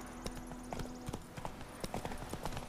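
A horse gallops in The Witcher 3, its hooves beating a quick, steady clip-clop close by over a faint game background.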